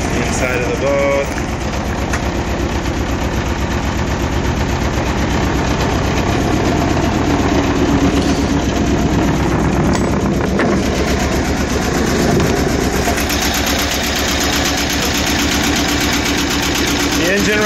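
A 2-cylinder Yanmar inboard diesel aboard a 1978 Hunter 30 sailboat runs at idle, a loud steady chugging thrum heard close from inside the cabin, with brief speech over it.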